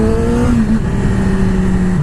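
A 2020 Yamaha R6 sport bike pulls away from a stop with a loud, close engine whine, its pitch climbing smoothly through the revs with a brief dip as it shifts.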